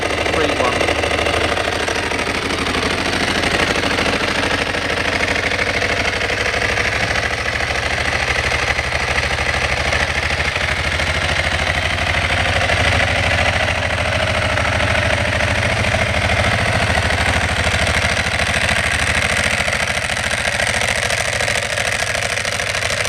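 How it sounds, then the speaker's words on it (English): A motorcycle engine idling with an open dry clutch, a steady loud mechanical rumble with a dense metallic rattle running continuously and close by, with brief speech-like sounds mixed in. "as I approach the bike again, you can probably already hear that lovely open clutch"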